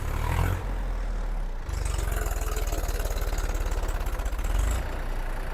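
A Massey tractor engine runs close by with a deep, steady pulsing chug and a rapid even rhythm. There is a brief dip in the sound before it settles back into a continuous loud drone.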